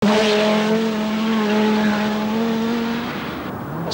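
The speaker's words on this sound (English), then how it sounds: "But in the new Audi, the turbo wastegate chirruping open and shut, world champion Stig Blomqvist was charging" A 1985 Audi rally car's engine drones past at a 1000 Lakes Rally stage with a steady engine note. The tone shifts slightly in pitch before fading at the end.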